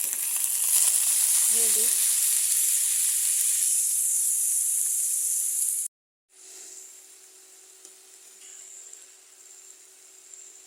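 Taro (kochu) bhaji sizzling steadily in a pan with turmeric, coriander and salt, a bright continuous frying hiss that drops out briefly, then returns softer; a short spoken phrase sits over it.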